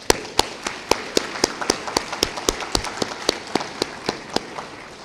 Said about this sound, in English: Please raise your hand, administrators, and we'll give you a round of applause.